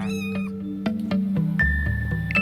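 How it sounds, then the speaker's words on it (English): A cat meows repeatedly, a few clear rising and falling meows close by, heard alone with no talking over it. "Why do I hear a cat?"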